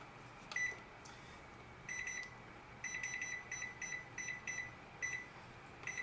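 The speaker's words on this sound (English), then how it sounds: "I'm going to set the timer." Kitchen timer being set for ten minutes during stew cooking, giving short electronic beeps at a steady high pitch in irregular bursts, some single and some in quick runs, fairly faint over quiet room hiss; no talking.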